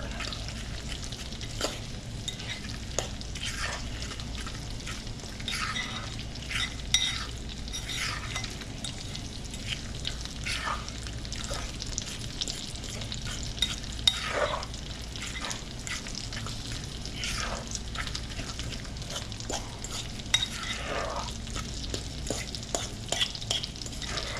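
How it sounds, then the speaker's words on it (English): Carbonara ingredients with guanciale being stirred in a hot pan: a steady close sizzle runs throughout, broken by repeated soft scraping strokes of a utensil at an uneven rhythm, with no voices. "Still stirring."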